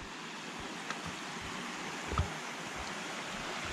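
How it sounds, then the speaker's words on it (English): Mountain creek water at Lee Creek on Mt Rainier flows and splashes steadily, a broad continuous rushing wash heard close by with no voices over it. "Beautiful little water coming there."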